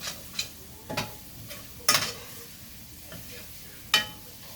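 A spoon scrapes and stirs flour into braised beef in a pot, giving a handful of sharp, irregular clinks and scrapes against a faint, steady sizzle underneath.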